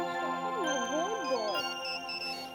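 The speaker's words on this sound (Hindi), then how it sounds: "मम्मा का फोन बज रहा है" A mobile phone ringtone plays alone, a bright electronic melody with rising and falling tones and a sustained chime, fairly close and clear for a couple of seconds.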